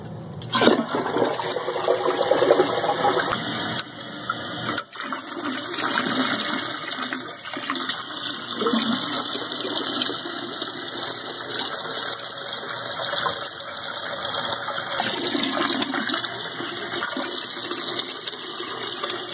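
A household toilet flushes red, iron-stained dye out of its tank, a steady loud rush of water that keeps running and refilling for the whole stretch, with a brief clunk near the start.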